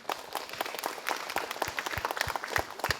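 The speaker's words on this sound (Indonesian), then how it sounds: "tepuk tangan." Audience applause at a children's preaching competition broadcast, a steady crowd clapping with dense, sharp individual claps throughout, fairly close and without talk.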